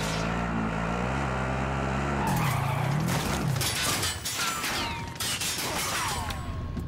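Game car being driven, with an engine drone and tire squeal that give way to crashing, shattering impacts, scraping and gunfire-like bursts, loud and close.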